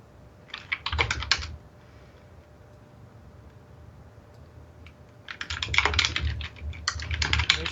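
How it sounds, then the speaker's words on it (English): Someone types fast and forcefully on a computer keyboard in two loud bursts of rapid clattering keystrokes, separated by a quieter pause, with no talking. "There she goes, anger typing again."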